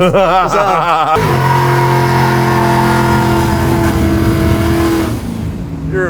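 A V8-powered 1972 Datsun 240Z revs hard and close, its engine note climbing sharply, then holding a loud sustained roar with strong harmonic tones before easing off near the end.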